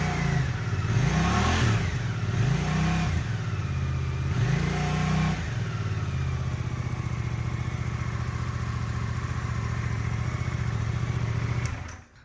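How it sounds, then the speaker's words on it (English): A 2024 Suzuki GSX-8S with a Delkevic full exhaust system is blipped three times, each rev rising and falling sharply, then settles into a steady close idle before cutting off abruptly. "Give it a couple revs."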